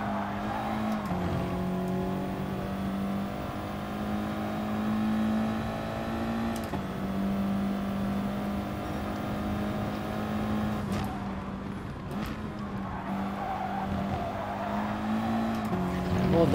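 A race car engine in Gran Turismo Sport drones steadily and close throughout, its pitch dipping and climbing with throttle changes, with brief bursts of tire squeal mixed in.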